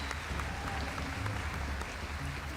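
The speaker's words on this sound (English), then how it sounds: "let's give him a big round of applause" A crowd applauds steadily at a GT World Series motorsport awards presentation in Los Angeles, dense clapping filling the space at an even level throughout with no pauses.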